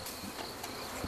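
Bees buzz steadily around a caged queen bee during hive setup, a soft continuous insect hum with no talking.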